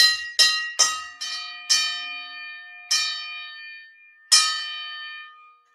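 A gong sound effect is struck seven times to mark a super chat, each strike a bright metallic clang that rings out and fades before the next, with uneven gaps and no talking.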